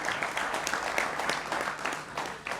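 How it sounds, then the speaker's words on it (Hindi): An audience claps in a televised interview setting, a dense, continuous patter of many hands at moderate distance that holds steady for a couple of seconds. "उनका भी अभिनंदन है जोरदार तालियों के साथ।"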